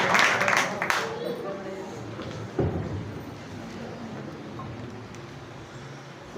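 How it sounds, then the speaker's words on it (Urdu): A church congregation bursts into loud applause, dense clapping strongest at first and then settling into a sustained, softer wash of hands mixed with crowd noise. "زوردار تالیوں کے ساتھ"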